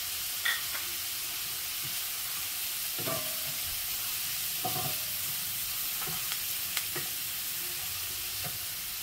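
Chopped onion and asafoetida sizzle steadily in hot oil for a Maharashtrian cowpea-leaf vegetable dish, with a spoon scraping and stirring the pan in several short bursts over the constant frying hiss.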